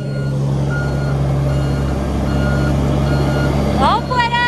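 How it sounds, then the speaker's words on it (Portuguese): A truck backs slowly into a tight parking spot at the far end of a lot, its engine rumbling steadily throughout, then a burst of rapid high reversing beeps near the end. "o tanto que o Paulo tá tendo que andar de ré pra colocar o caminhão"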